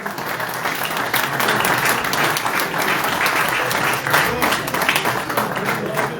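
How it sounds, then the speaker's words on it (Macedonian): Sustained loud applause from an audience honoring sports icons at a 2023 best-athlete awards ceremony in Probištip, steady dense clapping throughout with no pause. "Еден голем аплауз за овие наши спортски икони."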